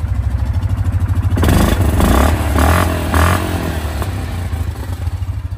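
A 2024 Yamaha Kodiak 450 ATV's engine idles with a low rumble, then revs up hard several times in close, loud bursts near the exhaust before settling back.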